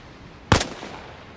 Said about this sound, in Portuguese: Tô aqui com a nossa sniper aqui, a M21 americana.